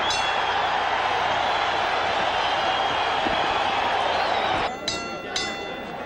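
An arena crowd at the Hagler versus Duran boxing match in 1983, a dense continuous roar of cheering and applause that dips slightly near the end, with a few clinks and a voice talking over it.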